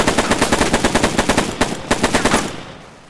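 A Bren Mark II light machine gun from the Second World War fires a rapid burst of roughly twenty evenly spaced, loud, sharp shots with a brief break midway, then the echo tails off. No one speaks.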